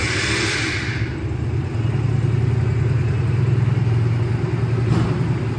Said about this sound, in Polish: Przekręcam kluczyk, klikam zapłon.